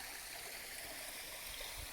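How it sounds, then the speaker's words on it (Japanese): A waterfall at Shirataki Shrine on the slopes of Mount Tsukuba, a steady soft rushing hiss of falling water heard from some distance, with no talk. "あっちから滝がある。"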